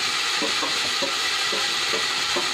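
Pork softens as it fries in a pan, a steady bright sizzle with soft stirring scrapes of a utensil at regular intervals.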